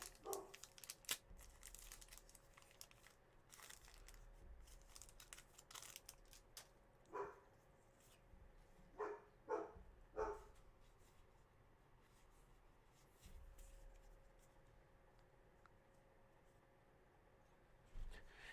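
A dog barks indoors in a few short, faint bursts spread apart, against a quiet room with light rustling and crinkling of trading card packs.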